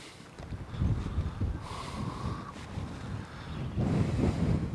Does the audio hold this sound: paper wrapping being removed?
no